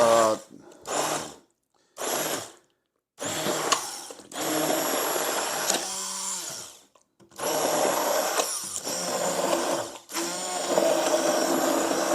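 Stick blender whirring in a container for mashed potatoes, running in several bursts of steady motor whine separated by short silences, close and fairly loud with the pitch shifting as it works.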